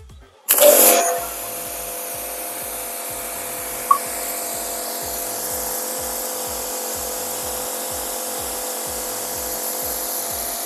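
Petrol jet cleaner pressure washer starts up loudly with a 25-degree spray nozzle fitted, then runs as a steady engine drone with a faint regular pulsing throughout.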